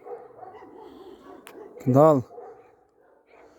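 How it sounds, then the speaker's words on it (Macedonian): A pet dog outdoors gives a single loud, sharp bark partway through while someone talks softly to it before and after. "Лај, душо, лај."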